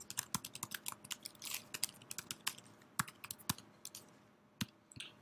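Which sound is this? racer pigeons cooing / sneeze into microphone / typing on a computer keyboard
typing on a computer keyboard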